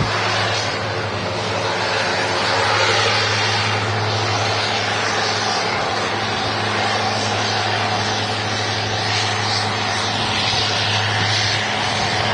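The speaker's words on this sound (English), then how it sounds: "I do love a good prop plane" An Eastern Airways propeller plane at Manchester Airport drones loudly and steadily, with a low propeller hum and broad engine roar running throughout, close and alone without talk.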